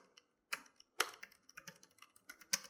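Keys on a computer keyboard clack in sparse, irregular bursts, close and fairly quiet, with short silent gaps between the taps.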